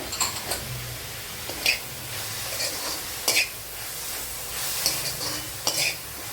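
Oil sizzles as onions and spices are sautéed in a pan for Kerala chickpea curry. A constant frying hiss runs under repeated bright metallic scrapes and clinks of a spoon against the pan, with no talking.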